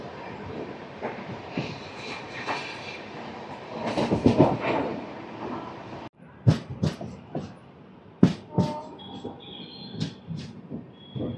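Rayalaseema Superfast Express running past Hitech City station without stopping, a rolling carriage rumble that cuts to sharper, intermittent clanks and rattles with brief tonal squeals near the end.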